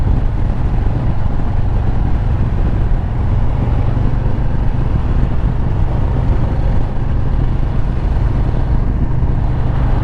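Wind buffeting a rider on a heavyweight cruiser motorcycle, Harley-Davidson Softail Slim or BMW R18, a loud constant low rushing roar mixed with engine drone, steady throughout with no talk.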